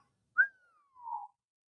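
A single short melodic whistle, sharp at first then sliding down into a softer held note, alone in quiet.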